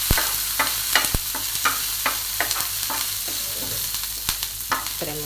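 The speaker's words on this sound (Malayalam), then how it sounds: "ഇപ്പോൾ ചെറിയ ഉള്ളി ഒന്ന് ഫ്രൈ ആയി വരുമ്പോൾ എനിക്ക് കുറച്ച് കറിവേപ്പില കൊടുക്കാം" Small shallots and curry leaves fry in hot oil in a pan for a mutton curry, giving a steady close sizzle broken by frequent sharp spatula taps and scrapes, with no voices.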